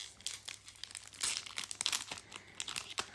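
Wrapped Earthworm Jim card packs, stretch-goal cards with tattoo, foil and lenticular inserts, are torn open by hand in short, faint crinkling and tearing bursts of wrapper, up close and with no talk.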